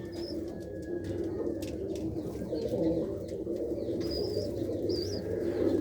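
Pigeons coo in a loft where chicks and eggs are kept, low throaty calls over a steady murmur of birds, with a few higher chirps and rustles close by.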